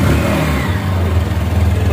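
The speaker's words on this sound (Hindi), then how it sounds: "और अब कराते हैं आपको TVS अपाचे RTR 160 2V का एग्जॉस्ट नोट।" TVS Apache RTR 160 2V motorcycle engine running after start, a loud steady low exhaust thrum close by with slight revving, while someone talks over it.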